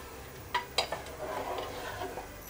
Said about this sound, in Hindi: पानी डालने के बाद हल्का सा मिक्स कर लेंगे।